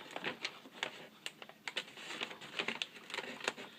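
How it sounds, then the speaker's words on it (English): Scissors snipping through a paper bag while making a mini album, a run of short crisp cuts in irregular rhythm, close and fairly quiet with no talking. "So I'm just going to cut straight down here."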